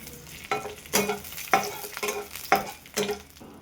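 Garlic, green chilli and dried chillies sautéing in coconut oil, heard as a steady sizzle broken by five regular scraping stirs of a spatula, close and fairly loud, with no voices.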